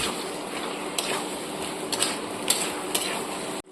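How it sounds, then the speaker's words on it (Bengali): Cauliflower and potato sautéing in a pan for a rohu fish curry, a steady soft sizzle with a few sharp stirring clinks and scrapes of the spoon against the pan, close and without talk. "অ্যাড করে দিচ্ছি ফুলকপি আর আলুটা। এটা কিছুক্ষণ কষিয়ে নেব।"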